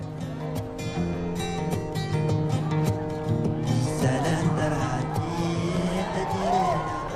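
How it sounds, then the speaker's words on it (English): Cars at a rodeo skid and rev, their engines droning loud and steady, with tire squeal rising toward the end over a bed of music and crowd voices. "Watching a rodeo for cars stolen from Libya, trying to forget the war."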